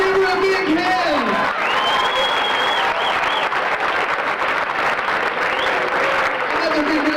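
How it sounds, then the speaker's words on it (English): Audience applause at an elementary school graduation, a steady run of dense clapping lasting throughout, with cheering and whoops rising over it. "Another big round of applause."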